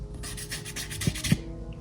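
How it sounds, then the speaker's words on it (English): A fingernail rasps back and forth across flat wall paint in a garage, producing several short, close scratching strokes in quick succession, with no talk. "So watch this, I take my fingernail to it, I have scratches."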